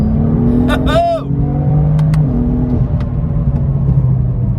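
A tuned BMW M3 or M4 engine pulls hard in third gear at about 47 mph, with a low, rumbling exhaust burble, steady and close, while a voice briefly speaks over it.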